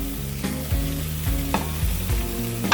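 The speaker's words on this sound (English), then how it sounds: "Place the sizzling pan on top of the timber slide so that it will not burn the base" Butter chicken sizzles loudly in a hot pan, a constant close frying hiss broken by rhythmic stirring scrapes and clinks about every half second.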